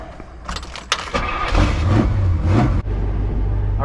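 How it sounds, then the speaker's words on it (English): The heater fan of a 1968 Pontiac Le Mans convertible switches on after a few clicks, rising into a whirring motor hum that settles into a steady, close drone inside the car. "You can hear the heater fan go on."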